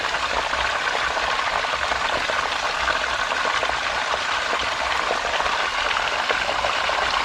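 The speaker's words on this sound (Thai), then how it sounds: "น้ำไหลดีเยอะ" Water flows steadily through a stream in a green rice paddy at evening, a loud continuous rushing and gurgling close by with no pauses.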